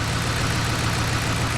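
Ford F150 4x4 ex-government work truck engine idling, a steady low rumble that holds evenly with no knocks or changes in pitch.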